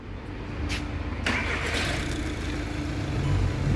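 A 2012 Volkswagen Jetta engine cranks with a couple of short starter bursts, then catches and settles into a steady rumbling idle, close and moderately loud with no speech.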